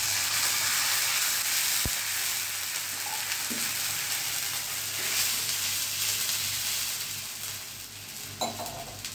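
Khichdi being tempered in hot oil, a loud continuous sizzle and hiss up close with a few light utensil knocks and stirring sounds, no voices.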